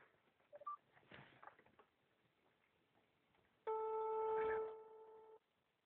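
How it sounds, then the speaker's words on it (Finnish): A phone call goes out: brief dial tones and clicks, followed by a loud, steady ringback tone lasting nearly two seconds before it cuts off, heard quietly through a handset line. "Tässä menee Johanna Tukiaisen soitto"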